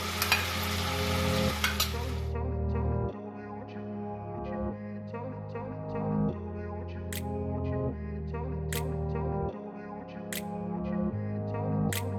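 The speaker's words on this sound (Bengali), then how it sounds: "ভালো করে মাংসটা ভেজে নেব।" Chicken pieces sizzling in oil in a kadai and being stirred, with steady frying hiss, repeated scraping strokes of a spoon against the metal pan, and a few sharp clinks at intervals, close and fairly loud.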